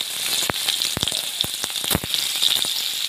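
Chopped onion with bay leaves and cumin hisses in hot oil for a pigeon meat curry, a steady close sizzle broken by sharp popping crackles, with no talk.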